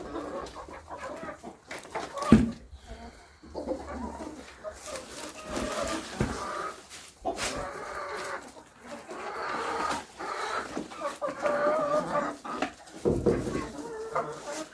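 Chickens cluck and murmur steadily close by, with scattered squawks and rustling, a faint dog and other birds in the background.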